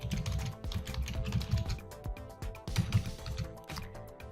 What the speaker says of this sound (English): and I'm going to type caterpillar.